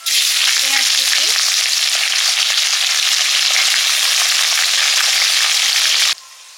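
Chopped onion frying in a pan, a loud, steady sizzle that runs continuously for about six seconds before cutting off abruptly.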